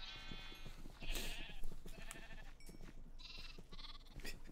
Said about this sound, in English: these sheeps are fucking obnoxious